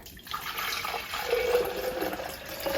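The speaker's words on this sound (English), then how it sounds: "We're going to go ahead and put our water in." Water pours steadily into a protein shake shaker for a few seconds, a continuous splashing trickle with a rising fill tone near the end.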